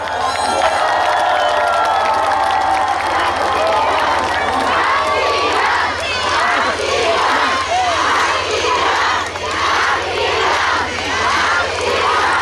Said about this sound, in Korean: 박수 많이 주세요.